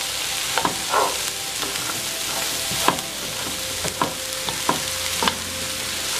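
Food stir frying in a pan, a loud continuous sizzle with repeated utensil scrapes and taps roughly every second, close up with no speech.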